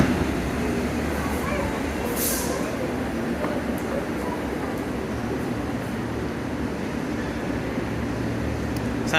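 A London Underground Piccadilly line train running between stations: continuous rumbling roll with a steady hum and a brief high squeal partway through, loud and close from inside the carriage.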